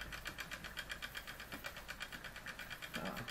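Linemar J-5322 vertical boiler model steam engine running with a slightly leaking boiler, a fast, even, rhythmic chuffing and clicking of the little piston, close-up but quiet, with a brief louder hiss near the end.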